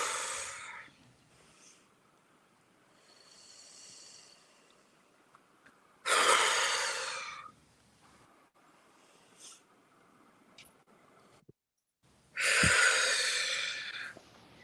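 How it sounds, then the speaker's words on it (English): Three deep breaths, each a loud, long, airy rush that swells and fades, spaced several seconds apart with quiet gaps and faint room noise in between. "3 deep breaths"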